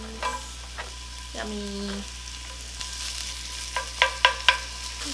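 Onions stir-frying with fish cakes in a pan over moderate heat, a quiet sizzle under a low hum, punctuated by utensil clinks and a few sharp scrapes near the end, with a brief spoken word.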